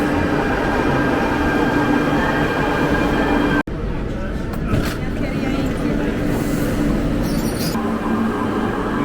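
A Barcelona metro train rumbles loudly and steadily from inside the carriage, with a sharp break partway through and the rolling roar continuing afterward. Murmured voices sit under the noise.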